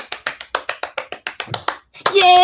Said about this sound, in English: Everyone clap for Marvel.